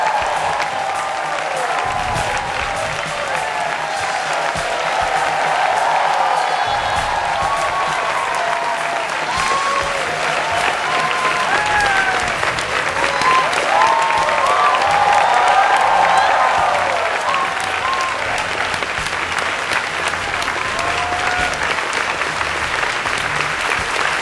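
An audience applauds warmly to welcome the US Secretary of State at a public forum, a steady wash of clapping with scattered cheers and whoops lasting the whole stretch, with no talk over it.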